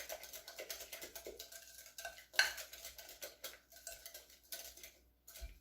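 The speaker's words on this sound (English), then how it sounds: "And I'm just whisking this to combine it well." A whisk stirs a sweet mixture in a bowl for a fresh strawberry tart. It scrapes and taps the bowl in quick, quiet, irregular strokes, and one sharper clink stands out midway.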